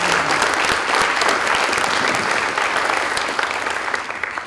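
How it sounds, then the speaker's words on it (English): Audience applause at a chamber of commerce breakfast, thanking culinary students and staff: steady, dense clapping from a sizable crowd that holds level for several seconds, then thins slightly near the end. "they really earned that applause."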